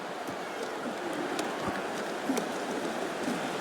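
Heavy pouring rain in the Madden 26 video game during a Chiefs–Chargers punt return, a steady broadband hiss with faint crowd and game noise mixed in.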